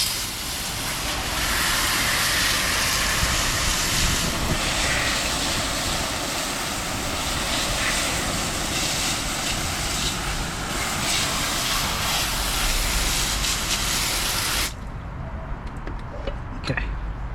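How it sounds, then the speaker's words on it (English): A garden hose fitted with a spray nozzle blasts car wheels being rinsed after an iron wheel cleaner, a loud, steady, close hiss of spray lasting about fifteen seconds before cutting off into quieter background. "So I'm just using the hose with the Ely nozzle."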